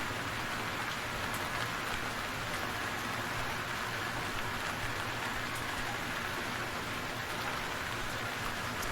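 Steady rain falls in the survival game Stranded Deep, a dense, even hiss of drops on surfaces that holds constant throughout without any voices.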